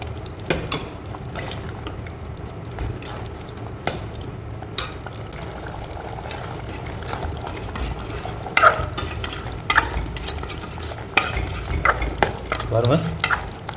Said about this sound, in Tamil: பாருங்கள் நல்லா கொதிச்சுட்டுருக்கு.